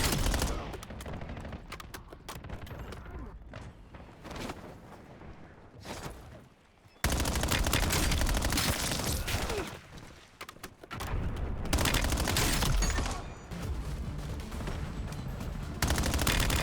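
Dense, loud bursts of automatic gunfire and explosions fill a Call of Duty Black Ops 7 match, with a short lull midway before heavy firing resumes and continues.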